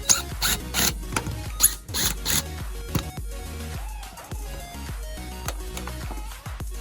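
Old Phillips head screws come out of a long-installed third brake light on a lifted 2WD Cateye truck, giving a close, rapid ratcheting and clicking run of short mechanical bursts with brief pauses and no talk.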